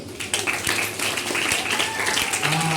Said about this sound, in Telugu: ఓకే, క్లాప్స్ కొడతా రాజాకి.